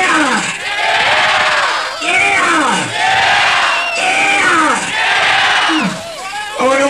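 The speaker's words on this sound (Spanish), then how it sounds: "A ver, vamos a gritar. ¡Yeah!" A concert crowd at a rock show shouting and cheering, a dense mass of yells and whoops rising in repeated loud waves, close and sustained.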